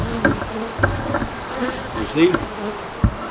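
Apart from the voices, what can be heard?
bees buzzing in a swarm trap hive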